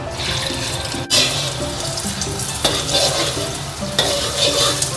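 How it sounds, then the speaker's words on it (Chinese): Beaten egg sizzles and hisses in a hot oiled wok while being stir-fried, a steady loud frying crackle broken by occasional scraping strokes of the spatula. "锅烧热，来上油，滑炒一下这个鸡蛋液"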